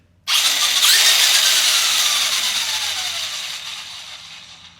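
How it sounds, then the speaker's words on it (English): A small engine on a hobby vehicle fires up abruptly and settles into a loud, high-pitched buzzing whine that gradually fades, heard alone without talk. "So lady, start your engine."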